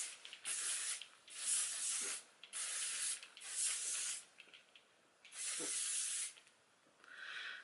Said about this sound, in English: Hairspray is not really spraying properly because it's still gunked up.